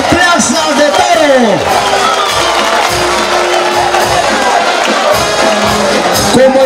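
A festival crowd at a costumbrista fiesta in Picoy cheers and shouts loudly and steadily, with cries of "ole" and whoops, many voices blending into a dense, lively roar throughout.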